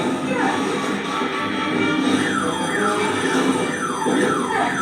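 Alarm sounding continuously and loudly, a wailing siren-like tone with repeated rising and falling sweeps throughout.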